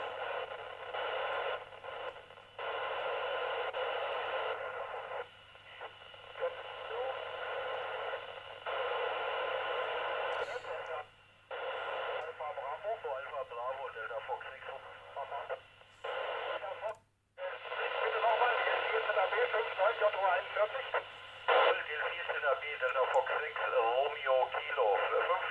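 Radio reception of the International Space Station's amateur repeater: band-limited, noisy transmissions fade and break up through hiss and static. Voices are heard faintly through the radio, with brief dropouts along the way.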